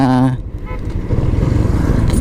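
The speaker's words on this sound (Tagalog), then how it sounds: "nakakadaan na dito ang motor sa lugar na to guys" A motorcycle rumbles steadily across Minalabac Bridge, its low engine drone loud and continuous after a brief burst of speech at the start.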